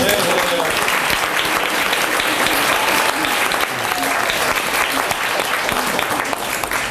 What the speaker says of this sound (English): I think that really does deserve a round of applause.